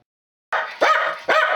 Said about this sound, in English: Oh, shush, dog.